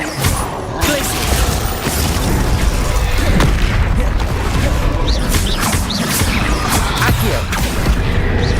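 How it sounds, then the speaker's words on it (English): Glacius ice spell cast in Hogwarts Legacy, heard as loud crackling bursts and crashes over dense, continuous combat noise lasting several seconds. "Glacier."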